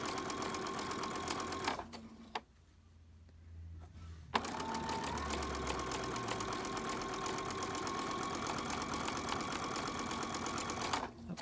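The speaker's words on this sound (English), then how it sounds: "And I sew all the way across." A sewing machine runs steadily stitching across fabric with piping, a rapid even mechanical whir that stops briefly for about two seconds, then resumes and continues close and clear.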